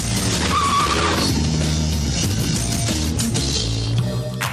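A motorbike skids with a drawn-out tire screech over a loud, steady engine roar, with a sharper squeal near the end.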